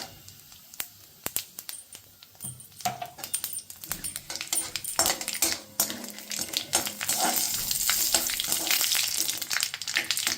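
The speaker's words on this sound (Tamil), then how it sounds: "இந்த பாஞ்ச்பூரன் கொஞ்சமாக இப்போ தாளிச்சும் கொட்டணும்." Panch phoron spices crackling and popping as they temper in hot mustard oil for a Bengali shukto stew, sharp scattered pops building into a dense, steady sizzle close up.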